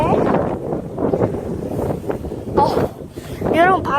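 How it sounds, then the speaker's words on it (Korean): Strong wind buffets the microphone outdoors in a residential alley, loud gusty rumbles with sharp bursts, while a person rolling on inline skates talks over it. "바람도 심하네."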